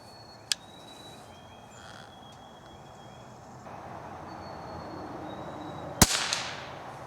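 A .22 rifle round fires outdoors with gas blowing back through the action: a single loud, sharp crack near the end follows a faint earlier click, over a quiet hiss of background noise.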